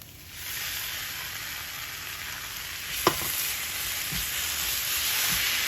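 A pan of vegan empanada filling being stirred gives a steady frying hiss and sizzle with a couple of spoon scrapes and taps partway through, no one talking.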